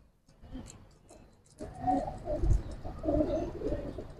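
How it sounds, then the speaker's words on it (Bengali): An army khaki female pigeon and other high-flyer pigeons coo softly in a quiet space, with faint, low, repeated cooing that grows a little fuller partway through, gentle and close. "আজকের দিনে ভাই এটাই অনেক হাই কোয়ালিটি কবুতর ভাই"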